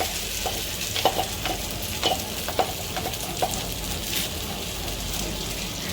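A potato and egg omelette mixture sizzling in a pan, with a steady hiss and a handful of sharp scraping and tapping sounds as it is spread out, heard close with no talking.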